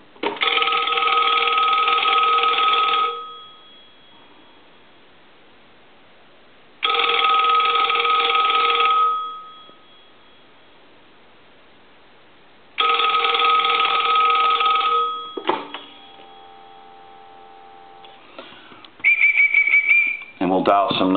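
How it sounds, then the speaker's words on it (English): A Western Electric 223G payphone's bell rings in three evenly spaced bursts of about three seconds each, loud and close with silence between, followed by a few clicks and a short tone near the end. "I'm going to put the telephone line back over into the analyzer, and we'll ring it one more time."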